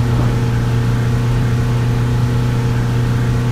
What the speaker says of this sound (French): J'aime pas le bruit de ce moteur.